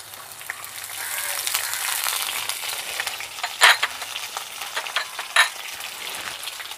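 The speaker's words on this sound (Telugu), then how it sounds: "కరివేపాకు కూడా ఇందులో వేసేయాలి తాలింపులో" Spices and curry leaves crackle in hot tempering oil for a cabbage pickle, a moderate steady sizzle with a few sharp pops and spits, heard up close with no talking.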